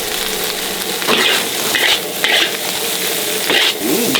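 Rice being stir-fried in a pan over moderate heat for tom yum fried rice with shrimp, a steady close sizzle broken by repeated scraping stirs of the spatula, with no talk.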